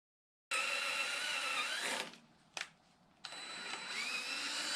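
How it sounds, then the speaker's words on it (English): A threading tap is run into a hole on a Kubota tractor, giving a loud, steady, broadband whirring that drops away briefly, spikes once, then resumes at full level. "Let's run a tap through here."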